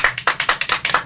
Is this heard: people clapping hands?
yes